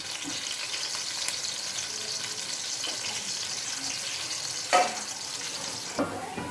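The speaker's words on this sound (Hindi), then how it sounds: "अब मैं इसमें प्याज डाल रही हूँ। तो प्याज को हमने इसमें गोल्डन ब्राउन होने तक फ्राई करना है।" Sliced onions fry in hot cooking oil for an aloo chicken curry, giving a steady close sizzling hiss broken by a couple of sharp scrape-and-clink stirring knocks near the end, with no talk.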